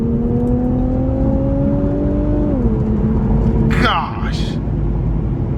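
A 2018 Infiniti Q50 Red Sport 400 twin-turbo sedan accelerating hard, heard from inside as a loud, steady engine drone whose pitch drops once at a gear change, with a short exclamation from a voice near the end.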